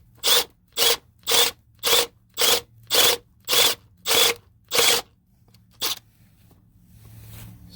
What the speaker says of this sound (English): See how it's starting to bore it out?